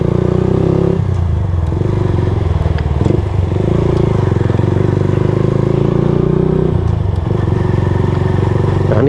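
A Honda Nova Sonic RS 125 motorcycle engine drones steadily at close range throughout, with occasional clatter and rattles from riding over a bumpy paved road.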